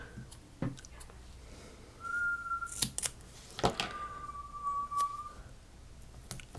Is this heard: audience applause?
no